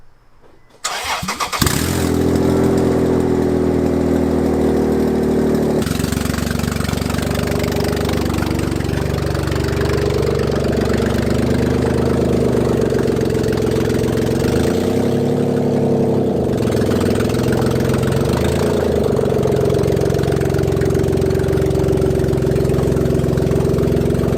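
A Toyota Tacoma pickup truck engine, running with no exhaust manifold or headers, fires up and idles loudly and roughly, with a harsh unmuffled rumble that holds steady throughout, no voices.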